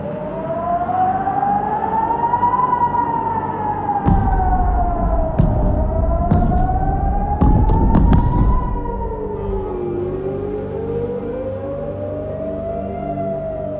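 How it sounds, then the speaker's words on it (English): Rising and falling air raid sirens wail continuously during rocket barrages, several overlapping tones sweeping up and down, loud and sustained with a few sharp bangs partway through. "I was woken up by the astounding alarms of the sirens"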